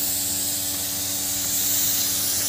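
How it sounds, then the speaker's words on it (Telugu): Pesticide sprayed on a winter tomato crop through a hose pipe fed from a drum: a steady, close, broadband hiss over a low, constant pump hum, with no talking. "ఇట్లా స్ప్రే చేసుకుంటూ వెళ్ళడమే"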